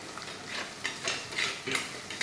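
Onions and tomatoes sauté in a pan for curry leaves kuzhambu, with a spatula giving a rhythmic series of scraping, stirring strokes at moderate loudness and no voices.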